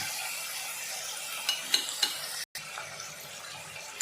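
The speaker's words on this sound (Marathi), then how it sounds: "त्या साईडला बोई मच्छीची शेपटीचं फ्राय चालू आहे" Mullet fish tail frying in a pan, giving a steady broadband sizzle with a few brief clicks, a short dropout midway, and no talk.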